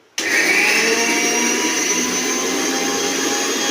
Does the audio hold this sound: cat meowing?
no